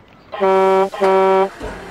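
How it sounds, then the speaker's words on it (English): Two loud, bright horn honks close by, each about half a second long, separated by a short gap. "Salty honked his horn."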